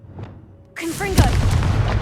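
The Confringo explosive spell from Hogwarts Legacy bursts in a loud, close blast with a fiery whoosh and crackling tail, following a spoken incantation.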